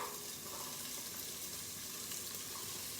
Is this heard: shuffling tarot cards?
no